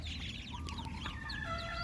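Female ducklings peep and chirp in quick, high bursts over a steady low background hum.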